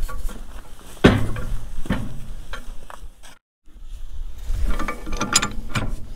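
A wrench turns out a precombustion chamber on a Caterpillar D2 diesel engine, giving close, gritty ratcheting clicks and metallic scraping in repeated strokes, with a brief silent gap midway.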